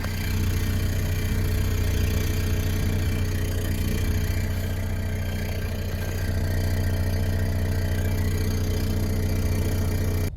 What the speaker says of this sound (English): there has been this really rattly metallic noise from the exhaust